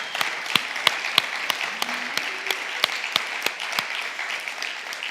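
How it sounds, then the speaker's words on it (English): An audience at a hackathon awards ceremony in London claps, with individual sharp claps standing out over a moderate, steady patter of applause. "can I just have a massive round of applause for all the hackers"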